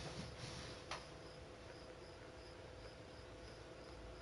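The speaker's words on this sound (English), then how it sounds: "I'm not trying to listen to crickets in my meantime." Crickets chirp outdoors at night in Borderlands 3, a steady faint high trill running through the whole stretch under a constant background hiss.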